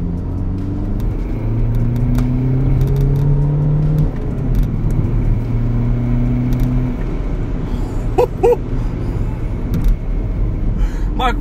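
The 2-litre inline-four twin-turbo diesel of a rear-wheel-drive BMW 123d E82 coupé pulls hard, its droning engine note rising and falling through gears as a steady in-cabin rumble, with a voice talking over it.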